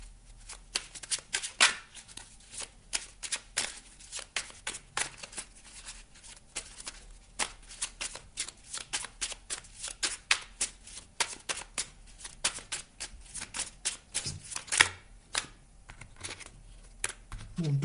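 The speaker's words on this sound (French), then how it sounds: "On va aller prendre une carte maintenant du petit oracle de Merlin." A small deck of Merlin oracle cards is shuffled close up by hand, making quiet, continuous riffling and slapping clicks in an uneven rhythm.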